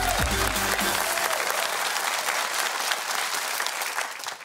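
An audience applauds a speaker coming onto the stage, a dense, loud, sustained wash of clapping that fades slightly toward the end, with no talk over it.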